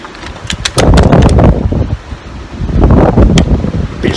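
Strong outdoor wind buffets the microphone in heavy, low roaring gusts that surge and ease over a few seconds, with no other clear sound.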